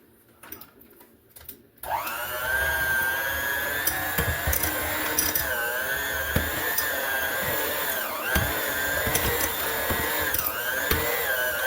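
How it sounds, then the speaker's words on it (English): An electric mixer starts up and whirs steadily while creaming three cups of sugar for a pound cake. The pitched motor whine wavers slightly, with gritty scraping and occasional clicks, close and loud after a few quiet knocks. "We got our 3 cups of sugar. We're going to mix those first."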